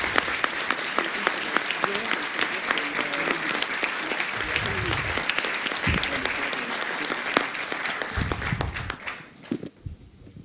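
Conference audience applauding a speaker after a talk on WordPress plugins, a sustained crowd clapping that runs loud for most of the span with scattered voices beneath, then thins out and tapers near the end.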